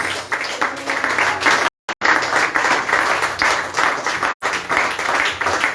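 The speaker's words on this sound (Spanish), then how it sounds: "Den aplausos al Señor." A church congregation applauds during a sermon, with steady, loud clapping from many hands that continues for several seconds, broken by brief gaps.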